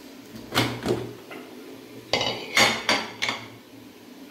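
Mutton goes into a pot for biryani with a handful of sharp metallic clatters and clanks, isolated knocks at first and then a quick cluster of louder pan hits close up.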